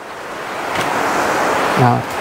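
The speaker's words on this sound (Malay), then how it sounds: "Ini memang depan sungai lah, sungai depan-depan ni." A river flows right in front of a bamboo campsite hut at Pos Beswok near Sungai Siput, giving a steady, close, broadband rushing wash throughout, with a brief voice-like tone near the end.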